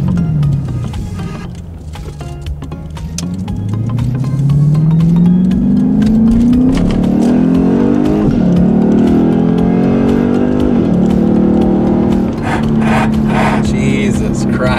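A Lexus IS F with its V8 engine accelerates on a test drive, the engine note rising steadily through the revs, dipping at a gear change and climbing again, loud from inside the cabin.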